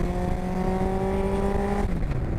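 Road-legal Cup 200 racecar engine under way, a loud, steady droning howl at constant revs with road noise, then easing off and dropping in pitch near the end.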